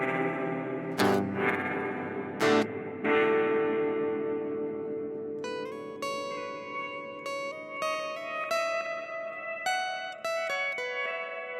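A LAVA Me 4 Carbon guitar played through its Moonwalk effect: a few strummed chords ring out, then plucked single notes with shimmering echoing repeats and a sustained wash, loud and alone.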